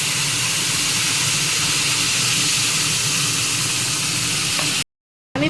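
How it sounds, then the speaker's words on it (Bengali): A paste of ground onion, peanuts and melon seeds sizzles loudly in hot oil, a steady dense frying hiss close by that runs unbroken before cutting to a brief silence near the end. "আমি পেঁয়াজ, চালমগজ আর হচ্ছে যেই চীনাবাদামটা বেটেছিলাম একসাথে, সেটা তেলে দিয়ে দিয়েছি।"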